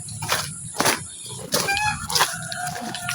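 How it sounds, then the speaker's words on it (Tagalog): Farm chickens clucking and squawking close by in a series of sharp, uneven calls, with some higher-pitched cries among them. "Ang mga manok. Ang mga manok oh."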